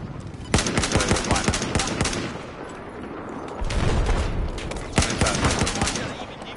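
Video game gunfire, with bursts of sharp shots in rapid clusters, some spaced like single rounds, loud and close against a busy game soundscape.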